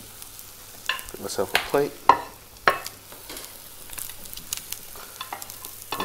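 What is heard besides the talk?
omelette frying in a pan, flipped with a spatula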